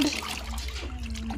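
Water pours and trickles steadily from a shower while a dog is being bathed, a close continuous running sound with a faint low background hum.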